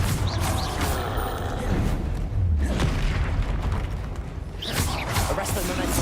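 In the Hogwarts Legacy video game, a Confringo spell goes off with deep booming blasts and rumbling, mixed with game effects and voices talking over the action.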